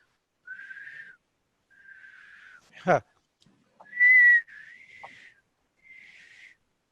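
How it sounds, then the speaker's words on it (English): A man tries to whistle a pure sine-wave tone, producing several thin breathy whistle notes separated by pauses, with a brief vocal sound and a short louder whistle in the middle. "can you whistle a sine wave? I wish I could whistle, but okay,"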